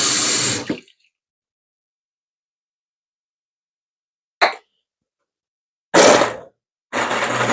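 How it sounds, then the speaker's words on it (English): Water added to a pot while cooking orange cranberry thumbprint cookies: a short burst of running water, a brief knock, then two more splashing pours after a long silence, each loud and close. "I'm going to add some more water because I think it needs a lot more water than we think."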